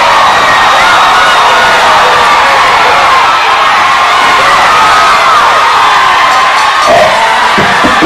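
A crowd roars and cheers at an MMA fight in the closing seconds of the first round, a dense, loud, sustained wash of shouting and whooping that fills the whole stretch with no break.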